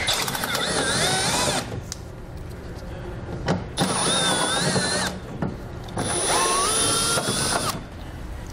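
Power tool removing 8mm screws from the bottom of a 2012 BMW X6 bumper, whirring in three sustained runs with brief pauses between, close and loud.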